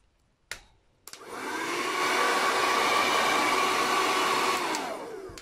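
A couple of clicks, then a Royal hair dryer switches on blowing cold air with a loud steady whoosh and hum, winding down near the end.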